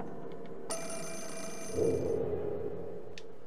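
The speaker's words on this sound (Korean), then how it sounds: "아 전화 그만 울려." Telephone ringing in the video game Fatal Frame IV: Mask of the Lunar Eclipse. A bright electronic ring starts abruptly and sustains for about a second under low ambient drone, then a brief high chime follows later.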